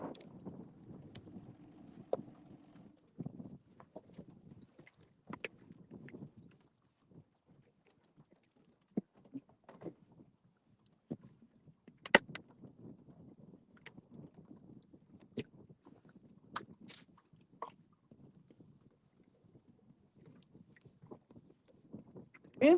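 An outboard motor on a river fishing boat is dropped into the water. Scattered knocks, clunks and a few sharp bangs rise above light wind noise, close and uneven, with no talking.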